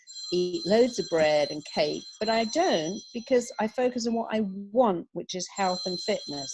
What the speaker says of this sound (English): that's my alarm telling me that I have to be somewhere else